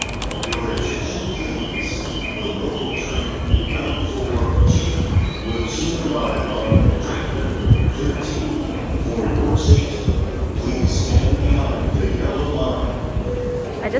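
Train noise at a station in Tokyo, a loud rumbling roar with metallic squeals and a persistent high whine, with scattered voices in the background.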